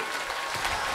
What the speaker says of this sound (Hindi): निवेदन करूंगा सर्वप्रथम एक बार जोरदार तालियों से श्री सद्गुरुदेव भगवान का स्वागत करेंगे।